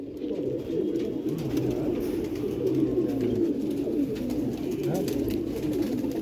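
Pigeons, including a paired male and female, cooing in a low, continuous murmur close by on a rooftop, over a dense background of flapping and rustling.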